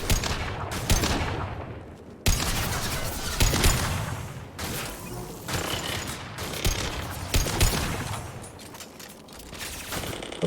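Rifle gunfire in the Mass Effect video game, with repeated bursts and volleys of shots firing in quick succession over about ten seconds, loud and close, with sharp attacks and dense crackling between.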